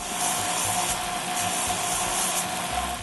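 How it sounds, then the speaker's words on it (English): A 1-inch belt sander and a pneumatic drum sander reshape wooden intarsia pieces, making a continuous close abrasive rasp and whir with slight shifts in pressure. "I use my 1-inch belt sander and a pneumatic drum sander"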